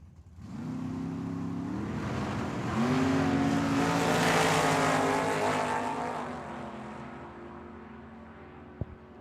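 A dragster and a Nissan drag racing at Tucson Dragway, engines roaring hard and rising through rapid gear changes as they launch and pass, loud and close before fading, with a sharp click near the end and no talk.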